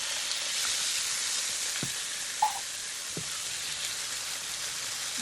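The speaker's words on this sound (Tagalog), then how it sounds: "with additional oil into the pan, we will fry the chicken" Chicken stir-frying in oil in a pan gives a steady, faint sizzle. A few soft clinks from the utensils and a small tap sound over it.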